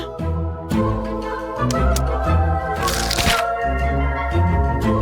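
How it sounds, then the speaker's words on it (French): An egg cracked for a cake batter gives a brief crisp crack near the middle, set against steady tonal background music that plays throughout and partly masks it. "Je casse un œuf."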